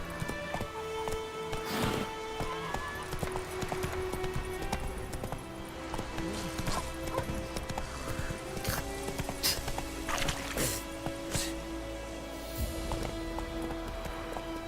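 Roach, a horse in The Witcher 3, gallops with steady rhythmic clip-clop hoofbeats close by, carrying on throughout among other game sounds.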